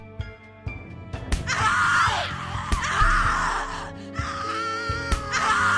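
A woman screams and wails in anguish in The Cat Lady, a horror video game, her long, loud cries rising and falling over tonal game music and sharp hits across several seconds.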